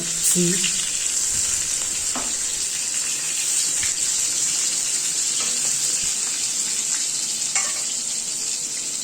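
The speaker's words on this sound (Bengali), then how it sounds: "ওই শুকনো মরিচগুলো এখন তরকারিতে দিয়ে ফ্রাই ফ্রাই করে করতেছি" Dried chillies fry in a curry with a bright, continuous close-up sizzle and bubbling, broken by a few light clinks of stirring.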